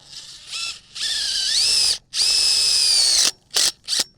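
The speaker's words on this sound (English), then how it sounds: "Now we're going to take a self-tapping screw and run it through the posts." A power drill drives a self-tapping screw into a post of a Farmers Friend Haven high tunnel: a few short bursts, then two long whining runs whose pitch climbs as the screw bites, then two quick final bursts, close and loud.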